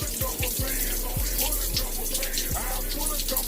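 Shower water runs steadily while soap is rinsed out of thick freeform locs, a close, continuous splashing hiss with a few low thumps of water hitting the body and floor, and no talking.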